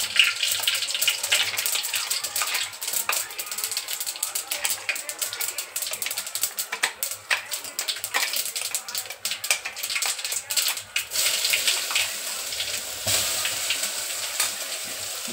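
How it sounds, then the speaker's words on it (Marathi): Cumin and mustard seeds crackle and pop in hot oil, a dense run of sharp close snaps over a steady sizzle, before masala is added and keeps frying. "तेल व्यवस्थित गरम झालं तर त्यामध्ये आपण जिरे मोहरी टाकूया। मोहरी तडकली का चांगली"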